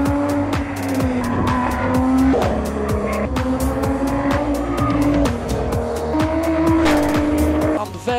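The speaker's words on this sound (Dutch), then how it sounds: "Aan de 5000 toeren begint die motor zo te schreeuwen." A small, light car's engine revs hard and high, around 5000 rpm, screaming close by, with rising and falling tones and some tire squeal, no talking.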